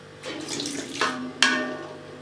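Jamun berries tipped into a pot holding about 1.25 kg of water give a short splashing, pouring sound in two close bursts, the second sharper, heard alone without talk.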